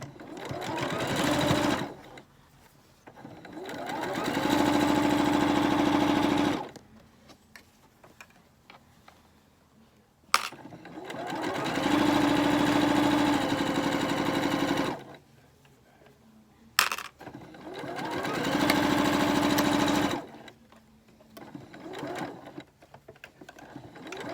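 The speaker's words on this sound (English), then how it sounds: "I'm going to sew across here the whole way" Sewing machine stitching fabric for a face mask in three loud, steady runs of rapid whirring several seconds long, separated by quiet pauses with brief clicks.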